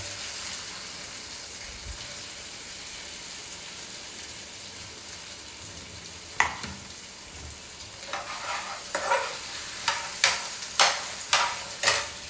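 Chopped onions frying in a pan for chicken gravy, a steady soft sizzle that turns into sharp, rhythmic scraping and stirring strokes every half second or so near the end, close and moderately loud, with no talking.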